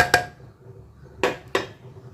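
Chopped onion and green chillies are tipped into a pressure cooker of dal, giving three sharp clanks of metal on metal, one then a pair about a second later, with quiet gaps between.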